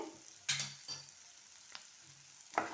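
Capsicum with chili powder frying in a pan, a quiet sizzle broken by a few sharp stirring scrapes and spoon knocks, spaced apart and close up.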